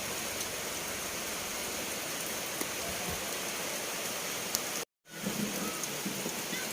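Steady rain falls in a cold place in Buda, a dense, even hiss of drops that continues close and alone, briefly cutting out near the end before resuming.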